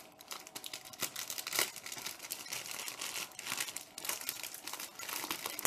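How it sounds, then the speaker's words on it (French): A crinkly plastic package of Oreo cookies torn open and handled, giving continuous close crackling and rustling with a few sharper rips, moderately loud and without speech. "Donc du coup on va commencer par les Oreos parce qu'il va falloir les casser en fait. Donc je vais l'ouvrir."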